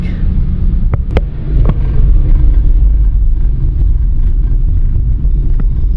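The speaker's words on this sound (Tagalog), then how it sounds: "grabe ang traffic" Heavy road traffic during a night ride in Calamba, a continuous low rumble of engines and wind buffeting the microphone, with a few brief sharp clicks near the start.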